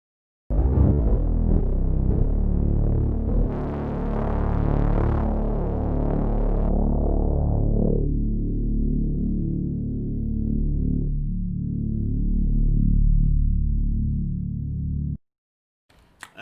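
A loud, droning synthesizer played through a filter, its bright upper content cut away in clear steps until only a dark, throbbing low tone remains before it stops abruptly.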